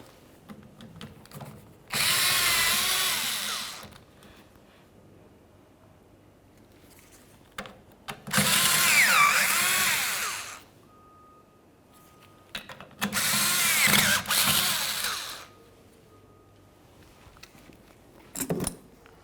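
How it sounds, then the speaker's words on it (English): A power tool spins out the 7mm corner mounting bolts of a trailer hitch plug receptacle on a 2005-2010 Dodge Dakota. Three loud bursts of whirring, each about two to three seconds long, are separated by quiet handling clicks. "you're going to find that you have 4 7mm mounting bolts, one on each corner"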